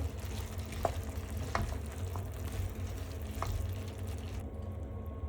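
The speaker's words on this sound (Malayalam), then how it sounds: "ഇനി നമുക്ക് ഇതൊന്ന് മിക്സ് ചെയ്ത് കൊടുക്കാം." Green tomato thoran with grated coconut is stirred in a pan. A soft, low sizzle runs under a few light scraping taps of the spoon, and no one talks.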